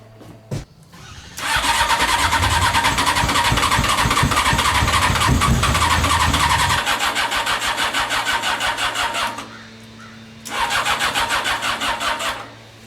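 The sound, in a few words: Honda CBR 600 reverse trike engine cranking on a dead battery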